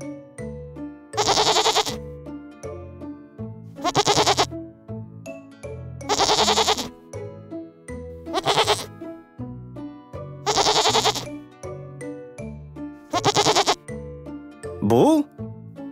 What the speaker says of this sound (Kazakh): Бұл ешкі.